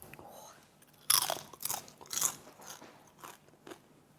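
Loud crunchy bites into browned chunks of food cooked in a pan, two sharp crackling crunches followed by softer chewing and crackles, close up with no talk.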